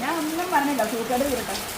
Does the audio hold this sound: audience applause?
no